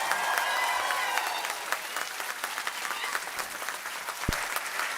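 An audience at a School of Planning and Architecture convocation in Vijayawada claps for the degree recipients, a loud, dense burst of applause that gradually thins into scattered, uneven claps.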